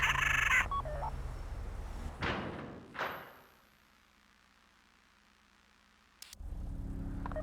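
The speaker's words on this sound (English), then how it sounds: "Take out your phone and trigger the door." A heavy bank vault door in Grand Theft Auto V gives a couple of dull mechanical thuds and a rumbling clunk, then goes quiet before a sharp click and returning background hum.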